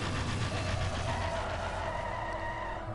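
A car with spiked wheels in Mad Max drives by with a continuous rough, gritty tire roar and rumbling engine, steady and fairly close, with no voices.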